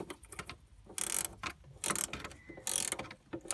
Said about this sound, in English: the pleasure of ratchet spanners. They do make life easier.